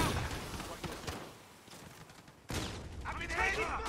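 Rapid gunfire bursts in a Call of Duty match, loud and close, with a sharp crack midway followed by more shooting while a voice shouts over it.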